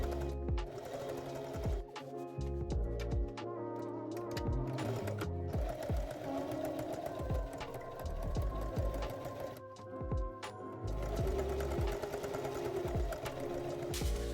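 A sewing machine runs in close, steady bursts while stitching twill tape onto a quilted bag, with brief pauses between runs of rapid mechanical chatter.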